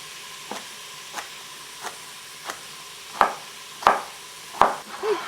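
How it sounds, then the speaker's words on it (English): A knife chops carrots into cubes on a wooden cutting board. Seven sharp, evenly spaced chops sound close by, with the last few louder. "I'm going to quickly chop up my carrots to get them in there as well."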